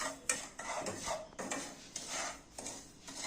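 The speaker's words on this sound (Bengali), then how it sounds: "দেখুন আমাদের সুজিটা ভাজা হয়ে গেছে" Semolina frying in a pan for suji halwa is stirred with a utensil, giving close, repeated scraping and rubbing strokes against the metal with light clinks, in an irregular rhythm.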